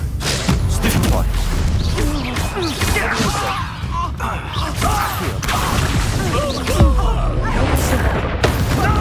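Stupefy spell cast in Hogwarts Legacy during a loud, continuous fight, with whooshing, whip-like spell blasts and booming impacts layered over characters talking.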